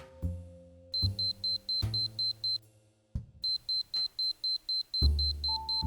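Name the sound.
camera shutter speed warning beep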